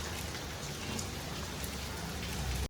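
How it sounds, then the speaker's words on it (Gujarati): Heavy rain pours down in a steady, dense roar, close and loud from start to finish with no voices over it. "જો ધબધબાટી બોલાવે છે વરસાદ"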